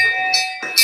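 A village chapel bell in a historic village in Tauranga, New Zealand, rings briefly with clear, sustained metallic tones, struck twice in under a second.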